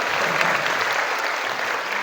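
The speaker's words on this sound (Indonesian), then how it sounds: "tepuk tangan untuk kita semuanya hari ini" Steady, dense applause from a large audience at a Maulid motivational event at Al Hassan girls' modern pesantren, continuing without a break.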